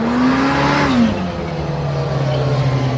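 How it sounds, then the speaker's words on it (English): A supercharged Kawasaki Teryx H2 side-by-side's engine roars as it accelerates, then a brief airy supercharger blow-off whoosh as the revs drop and settle into a lower drone. "you get a cool blow-off sound from that supercharger"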